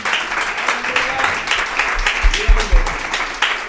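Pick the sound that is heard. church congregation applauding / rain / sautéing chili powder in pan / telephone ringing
church congregation applauding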